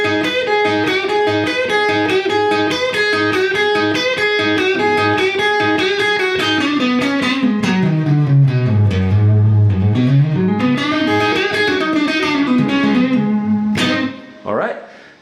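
An electric guitar plays a run of rock-blues licks in quick rhythmic figures, with a phrase that sweeps down and climbs back up before a short pause near the end. The tone is clear and upfront, with no talking.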